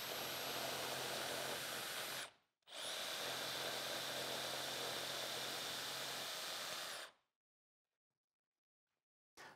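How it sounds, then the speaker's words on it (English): A power saw cuts wooden legs for a small Shaker bench, running in two loud, steady buzzing bursts up close with a short pause between them, then falling silent. "I've completed all the jigsawing for the legs"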